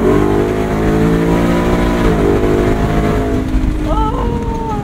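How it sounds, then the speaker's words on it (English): The V8 engine of a Velocity Classics Bronco revs loudly and steadily, its deep rumble rising in pitch as the throttle climbs, close and continuous throughout. "It's just you and that V8 and this incredible truck."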